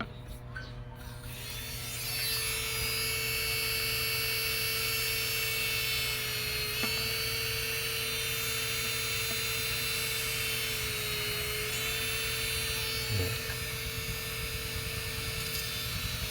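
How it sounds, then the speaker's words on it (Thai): An electric drill with a small pilot bit bores an angled hole, a steady, high-pitched whine that runs unbroken for about fourteen seconds after a brief start. "ผมจะใช้ดอกเล็กนำไปก่อนนะครับ"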